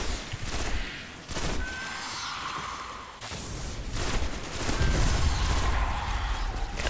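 Rapid gunfire from the video game Destiny, with bursts of automatic shots and heavy booming impacts overlapping in a dense, loud, continuous barrage.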